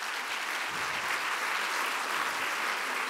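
Steady, dense applause from an assembled audience at an association's opening event, continuous and even for about three seconds.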